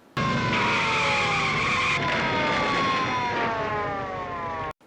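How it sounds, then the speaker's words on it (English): A screeching skid as a vehicle slips on ice, a loud sustained tonal squeal that slowly falls in pitch across several seconds before cutting off abruptly. "The kind of ice that still makes a screeching skid sound when something slips on it"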